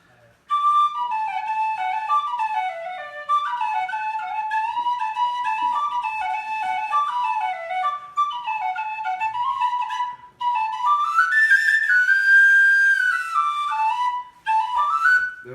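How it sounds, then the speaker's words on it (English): A tunable plastic Tony Dixon DX004 tin whistle plays a lilting tune, bright pure notes running in quick ornamented phrases with brief breath pauses, then a held, bending higher passage, played alone. "This is the Tony Dixon plastic DX004 whistle, and it's tunable."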